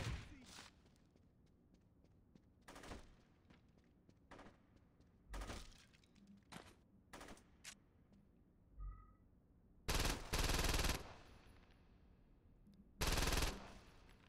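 Gunfire in the open-world game Saints Row 2, with scattered sharp shots through the first half, then two louder, heavier bursts of rapid fire, one of them longer, against quiet background sound.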